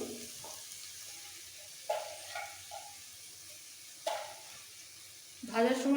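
Okra and potato poppy-seed masala stirred in a pan, a faint sizzle under scraping spoon strokes and a few louder splashes of added liquid, with a voice talking throughout.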